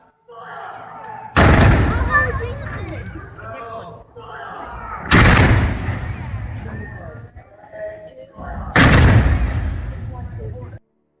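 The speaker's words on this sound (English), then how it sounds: "Then they fired off the huge cannons on the upper level." Three booming cannon blasts from the upper level of Fort Henry in Kingston during a show, spaced a few seconds apart, each loud and echoing, with crowd noise and voices in between.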